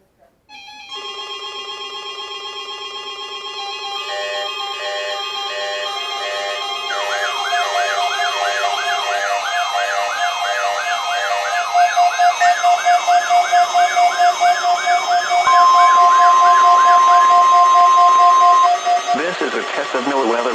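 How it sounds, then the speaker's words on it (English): NOAA Weather Radio warning alarm attention signals: a loud, steady electronic tone that turns into a rapidly warbling siren-like alert over a held high pitch. The sequence runs continuously and ends abruptly with a short burst. "The attention signals you just heard will automatically activate special receivers to warn of the impending hazard."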